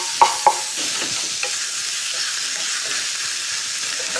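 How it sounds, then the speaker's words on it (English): Chicken sizzling and frying in curry paste in a hot pan for a Balinese curry, opening with two quick clanks of a utensil, then a steady hiss under stirring. "just kind of a medium sizzle. All right, in goes the chicken."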